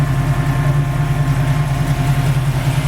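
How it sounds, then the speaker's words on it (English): A 1968 Ford Mustang with a 289/302 small block V8, headers and dual exhaust, idles steadily and loudly close by, with a deep, even burble and a strong low rumble and no pauses. "got a really great running 289 302 engine."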